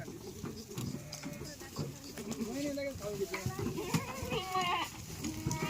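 Goats bleat among a herd of pregnant does being delivered, several wavering calls rising over loud, continuous talk and shuffling movement nearby.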